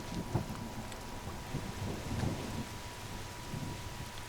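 Steady rain falls in The Forest video game, a constant broad hiss with low rumbling texture throughout and no talk.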